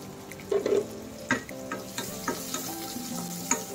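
Tomatoes hit a hot pan and are stirred, frying with a steady sizzle broken by several louder clatters of a utensil against the pan.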